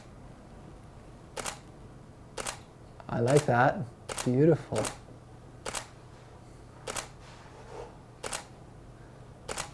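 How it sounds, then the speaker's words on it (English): Camera shutter clicks repeat at roughly one-second intervals during a photo shoot using slow shutter speeds. Each click is crisp and close, and a voice talks briefly in the middle. "I'm shooting slow shutter speeds."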